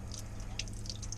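Water drips and trickles into a leaking boat hull, soft splashes over a low steady hum.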